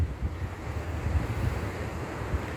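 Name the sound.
ocean surf shooting out of a hole in the rocks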